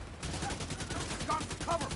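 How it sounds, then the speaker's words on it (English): Gunfire from The Division 2 shooter game, a dense burst of rapid shots and explosive cracks under continuous game noise, with a few brief tonal blips near the end. "Get that gun firing!"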